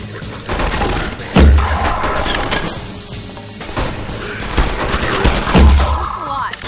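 Gunfire from an AR2 pulse rifle in Half-Life 2: Episode Two, with two heavy, booming bursts standing out above a dense, continuous layer of game action and noise.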